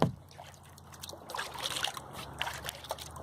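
Kayak paddle strokes dipping through calm water near the shoreline of the Ottaquechee River in Vermont, soft irregular splashes and trickles, close and faint, with no voices.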